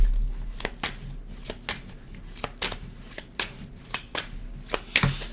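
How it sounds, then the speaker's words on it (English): Tarot cards are shuffled by hand in a run of quick, crisp riffling snaps and taps at an uneven rhythm, close and alone with no talking. "One more shuffle."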